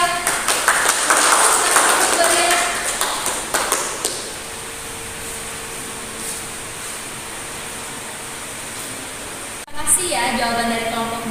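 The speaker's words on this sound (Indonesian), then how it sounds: "Berikan tepuk tangan untuk kelompok 2." A class claps for a group of students during a school lesson. A few seconds of scattered, fading claps give way to a quiet room, and a voice begins speaking near the end.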